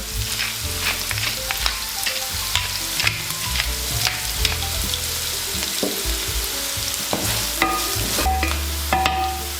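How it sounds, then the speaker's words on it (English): Carrot and scallion sauté in a pan for Sicilian baked pasta, a steady close sizzle broken by frequent scrapes and clinks as the pieces are kept moving. "It's very important in this passage that you don't burn the carrot and the scallion, so keep moving it."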